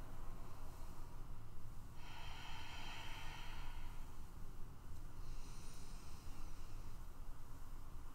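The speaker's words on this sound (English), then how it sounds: "We'll take 2 more rounds of breath here." Two slow yoga breaths during a flow practice, each a soft airy inhale and exhale, quiet and close against a faint steady background hiss.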